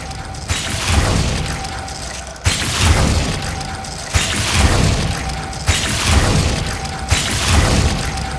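Glacius ice spells in Hogwarts Legacy crack out repeatedly, five or six sharp icy impacts with shattering bursts at steady intervals, loud and close over a busy game background.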